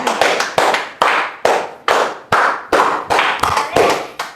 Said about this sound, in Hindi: एक ताली ठोकी जाए